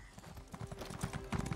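Horse hooves clip-clop in a fantasy video game with dragons, Imperials and Khajiit, a quick run of soft, even footfalls heard alone at low volume.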